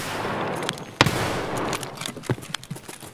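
Mosin rifle shots crack in an Escape from Tarkov 4v4 fight at the dorms. One loud, sharp report stands out, and several fainter, more distant shots and clicks are scattered around it, with no talk.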